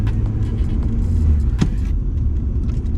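A car drifting using handbrake and clutch, steady engine and tyre rumble close by with a sharp transient near the middle, no talking.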